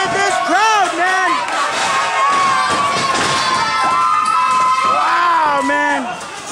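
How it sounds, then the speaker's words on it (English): A crowd at a live independent wrestling show cheers and shouts loudly and continuously, with high excited voices rising and falling close by and the odd thud from the ring. "The crowd is loving this action"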